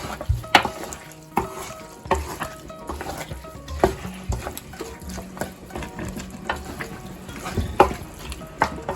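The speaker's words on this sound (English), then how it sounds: "Right, so we stir that with the palm oil too." Okra stew with palm oil being stirred in a frying pot, Gambian style: a spoon scrapes and knocks against the pot in irregular strokes over a soft, steady sizzle, close and fairly loud, with no talk.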